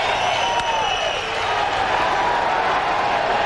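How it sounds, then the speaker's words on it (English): Stadium crowd at a 1995 Red Sox–Angels baseball game cheering and clapping on their feet, a steady, dense roar of many voices heard from a distance throughout. "many of them making noise on their feet and cheering in anticipation of a Red Sox win"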